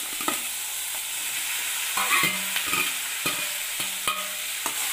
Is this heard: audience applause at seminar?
no